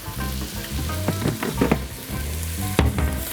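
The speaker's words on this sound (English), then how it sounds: "And you stir that up real good." Cajun cabbage with andouille sausage and Creole seasoning being stirred in a hot pan, a steady loud sizzle broken by repeated scraping strokes of the spoon, no voices.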